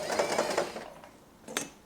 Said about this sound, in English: So you can push this and continue sewing.